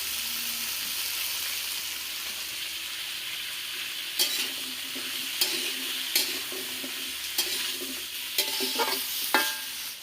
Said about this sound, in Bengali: আনাজটা ভাজা হয়ে গেছে, আমি ঢেলে দিচ্ছি।